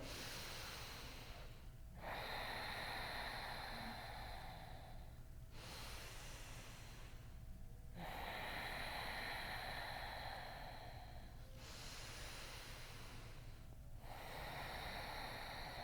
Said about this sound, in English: 3 huge breaths